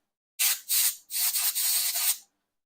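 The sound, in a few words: air compressor blowing out PS5 HDMI port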